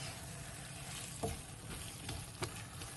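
Chicken pieces frying in a pan with curry powder for a chicken curry make a steady, close sizzle, broken by a few sharper scrapes and clinks as the pan is stirred.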